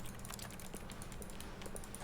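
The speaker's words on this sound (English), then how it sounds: "I'm clicking and you can hear it. It sounds just like sort of random, typing on a keyboard." Faint, rapid clicks in The Stanley Parable that sound like random typing on a computer keyboard, an irregular patter of soft taps over a dense background bed.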